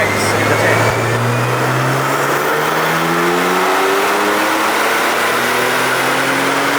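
Tuned turbocharged car on a dyno running a JB4 piggyback on Map 3 with E20 fuel, engine revving hard in a long climbing pull, loud and close with a rising roar.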